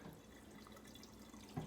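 Water runs from a tap to fill a plant waterer, a faint steady trickle and splash heard close in a quiet indoor room, no talking.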